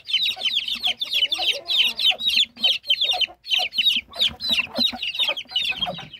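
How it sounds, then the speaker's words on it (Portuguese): Many young ducklings or chicks peep continuously in a dense, rapid chorus of high, overlapping calls, close and fairly loud throughout, on a duck-raising setup. "Já peguei os pintinhos aqui"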